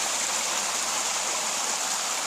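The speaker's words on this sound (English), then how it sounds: "Here's more of that spring water." Spring water rushes continuously through a rainforest near an archaeological site in Volcán, Panama, a loud, steady, close hiss of flowing water with no break and no voices.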